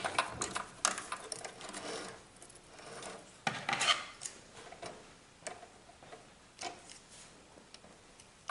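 Quiet, close sewing machine stitching a fabric face mask gives a steady ticking, rattling run with small surges and pauses in rhythm.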